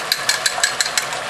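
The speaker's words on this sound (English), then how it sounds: "So now all we have to do is just beat 1 egg," One egg is beaten in a bowl while a chili crab or lobster sauce is being made. About six evenly spaced, crisp clicks of the beating sound close and clear over a faint background hum, with no talking.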